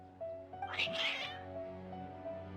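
Worked-up cats meowing in Genshin Impact, one close, brief, strained yowl rising over a soft musical backdrop.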